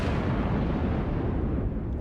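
Warship naval guns ripple firing in a video game, heard as a dense, continuous low rumble of blasts that rolls through two seconds at steady loudness, close and heavy, with no voices.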